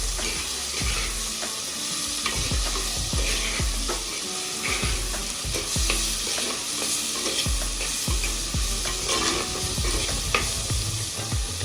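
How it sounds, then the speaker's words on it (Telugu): Finely chopped tomatoes and onions sizzle and fry in a pan for a brinjal and masala vada pulusu curry, with a spoon scraping and stirring in steady, repeated strokes under a constant close crackle. "2 సన్నగా కట్ చేసి పెట్టుకున్న టమోటాలు, ఇవి కొంచెం మెత్తబడే వరకు వేయించుకుందాం."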